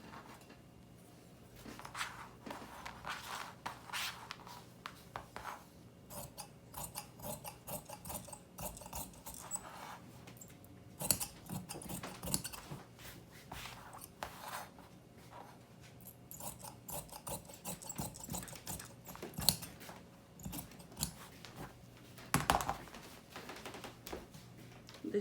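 Scissors cutting fabric for a maxi skirt, a quiet, close run of irregular snips and rasping rubs of cloth spread over about twenty-five seconds, with short pauses between cuts and no talking.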